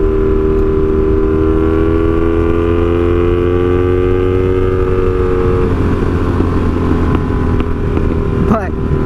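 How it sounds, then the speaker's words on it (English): Honda Magna 750 motorcycle with a straight pipe exhaust runs steadily and loud close up, with a low droning engine tone throughout and a brief sharp crackle near the end, like a backfire. "that backfiring might be due to the straight pipe mostly"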